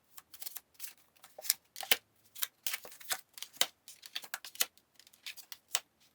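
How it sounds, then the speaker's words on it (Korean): Tarot cards are shuffled and drawn by hand, producing a rapid series of close, crisp riffling and flicking sounds with short pauses. "여러분을 위한 힌트 카드를 뽑아볼게요."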